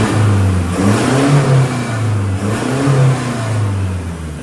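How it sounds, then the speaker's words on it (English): A 48V Toyota Hilux N80 engine revs through a 3-inch exhaust with a muffler. Its deep, droning note rises and falls over several close, moderately loud blips, with no talk. "So this car has a 3-inch exhaust, but it has a muffler up under there."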